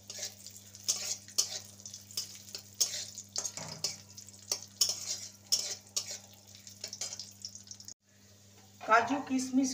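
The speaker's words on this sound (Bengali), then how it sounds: "এবারে কাজু কিশমিশকে ভেজে নেব।" Cashews and raisins fry in a pan for nabaratna polao, giving a quiet sizzle broken by repeated stirring scrapes and clinks. A short stretch of talk follows at the end.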